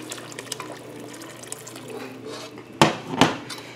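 Water is poured into a pot while cooking Puerto Rican arroz con gandules, with faint kitchen clatter and two sharp metallic knocks of the pot near the end; quiet and close, with no talking.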